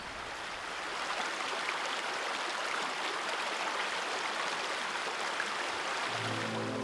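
Water flows in the lakes of Aigüestortes national park in the central Pyrenees, a broad steady rushing wash that swells after the first second and stays even, with a low hum creeping in at the end.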